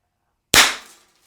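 A single sharp crack from a less-lethal derringer firing, loud and close after a moment of silence, with a quick decaying tail.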